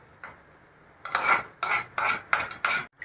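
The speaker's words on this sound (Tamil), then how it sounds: "இப்போ வறுத்த கேஷ்யூவை இதில் போட்டுக்கலாம்" Roasted cashews are stirred into idli batter with a spoon: after a quiet start, five quick scraping, clinking strokes against the bowl follow in a steady rhythm, close and alone.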